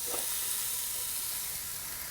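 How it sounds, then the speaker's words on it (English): A flat iron steak sizzles on a George Foreman contact grill, a steady broad frying hiss that holds evenly throughout with no talk over it. "You already hear a good sizzle."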